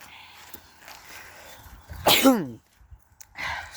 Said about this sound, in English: Sorry, I just sneezed there.